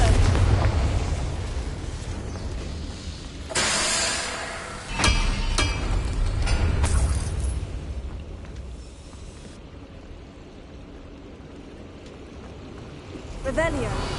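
A Confringo spell in Hogwarts Legacy bursts with a heavy fiery boom, then others follow, booming among rumbling, roaring game ambience.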